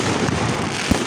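Fourth of July fireworks going off in a nearby neighborhood, a steady rumbling wash of distant bursts with one sharper, louder boom near the end.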